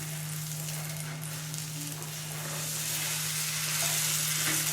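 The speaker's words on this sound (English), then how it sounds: "Oh my God, I need to try and flip this," Vegan cinnamon pancake batter frying in a pan, with a steady close sizzle that swells a little toward the end, alone without voices and with a low constant hum beneath.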